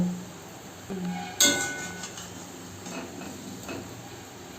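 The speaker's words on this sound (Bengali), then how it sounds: "একইভাবে প্রত্যেকটা বড়া আমি ভেজে নেব" Lentil fritters (dal bora) made from masoor dal fry in hot oil, with a soft continuous sizzle broken by a sharp clink of a utensil and a few scraping stirs.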